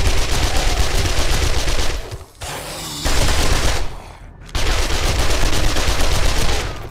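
Sustained automatic gunfire from the video game 7 Days to Die, loud dense bursts in three long stretches separated by brief pauses, no talking over it.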